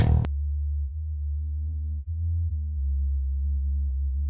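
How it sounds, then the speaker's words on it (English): An ocarina melody transposed three octaves down into sub-bass hums as a deep, steady tone with gently shifting pitch, alone after a short burst of noise at the start. "I didn't intend for the ocarina to be a sub-bass track"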